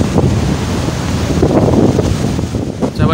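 Strong wind buffets the microphone while sea waves surge and wash at Gadani Beach, a loud continuous roar close by, with faint voices underneath.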